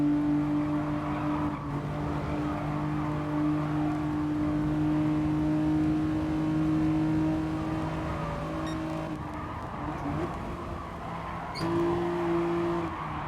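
Race car engines from Gran Turismo Sport drone steadily with sustained tonal hum, a pack of cars running close together, engine pitch shifting slightly and a brief tire squeal near the end.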